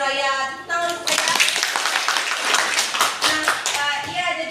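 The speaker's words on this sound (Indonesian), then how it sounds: "Tepuk tangan untuk Raya." Pupils clap together in a classroom during a chemistry lesson, a dense burst of hand claps lasting about three seconds, with a voice speaking just before and after it.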